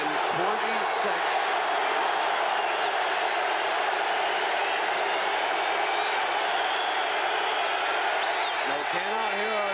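Stadium crowd at the 1986 Orange Bowl football game between Miami and Oklahoma, a loud, continuous roar of massed voices filling the whole stretch, with whoops and cheers rising through it and a commentator's voice faintly over it.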